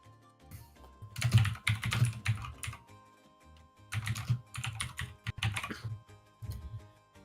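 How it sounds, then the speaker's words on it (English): Loud computer keyboard typing during an online game session, rapid clattering keystrokes in two dense bursts separated by a short pause, close to the microphone. "your keyboard is so loud."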